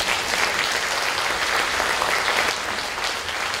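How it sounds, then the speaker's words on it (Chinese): Audience applause welcoming a guest at a literature lecture, a dense and steady clapping from a crowd in a hall, loud and continuous throughout and fading slightly near the end. "现在请以掌声欢迎我们的对谈嘉宾陈嘉义先生。"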